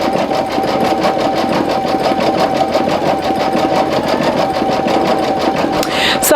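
A Brother single needle embroidery machine stitches a design onto a towel, a steady rapid mechanical whir and needle chatter running loud and continuous throughout, with a faint whine above it.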